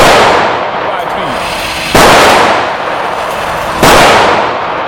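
A Diamondback DB9 9mm pistol fires 115 grain full metal jacket rounds: three sharp, loud shots spaced about two seconds apart, each a sudden crack followed by a short decaying tail.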